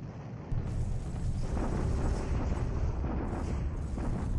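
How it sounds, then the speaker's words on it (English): Artillery bombardment from the War in the Pacific naval wargame, a continuous loud rumble of explosions and booming blasts that swells in after a brief quieter start and keeps rolling throughout. "this is our bombardment at Rangoon"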